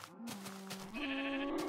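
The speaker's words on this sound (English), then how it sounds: "There's another sheep." A Minecraft sheep gives a short, nasal bleat, close and clear, with a pitch step midway.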